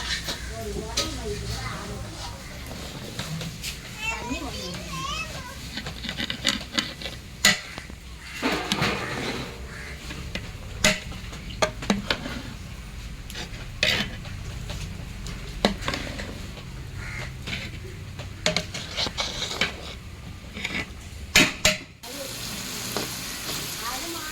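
Ghee sizzles and fries in a hot pan with pieces of food, with repeated scraping and stirring strokes of a ladle throughout; loud, close and continuous, with occasional clinks of metal.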